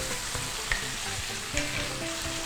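Liver frying in a pan with garlic just added, a continuous hissing sizzle with a couple of brief stirring knocks, close up.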